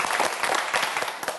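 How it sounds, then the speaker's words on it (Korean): A studio audience on a televised science quiz show claps in a lively burst of applause, dense and close, lasting the whole moment without speech. "박수 보내주세요."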